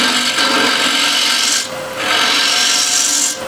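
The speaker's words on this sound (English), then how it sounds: "So I'll just use the scraper" A hand scraper rasps across walnut wood to shape a slightly concave section, steady close scraping strokes with a short pause midway and another break near the end.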